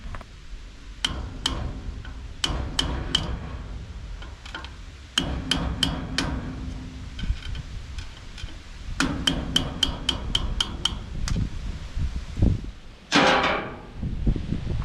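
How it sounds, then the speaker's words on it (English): A hammer taps a big flathead screwdriver to tighten something, sharp metallic strikes coming in quick bursts of several hits with short pauses, close and clear, and a brief scraping sound near the end. "Then I'm gonna use the hammer with a little flathead, or a big flathead actually I should say."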